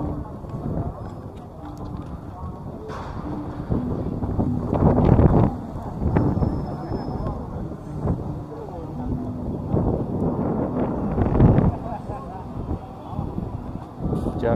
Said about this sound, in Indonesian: Oh, anginnya kencang banget.